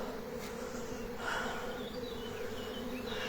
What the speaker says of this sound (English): you can see all the bees queuing up